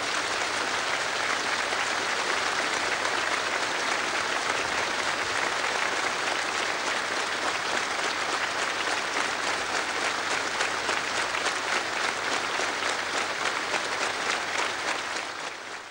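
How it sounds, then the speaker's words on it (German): A large crowd at Pope John Paul II's 1979 visit to Poland applauds steadily and loudly for a long stretch, a dense unbroken wash of clapping that fades slightly at the very end. "Die Menge spendet lange Beifall."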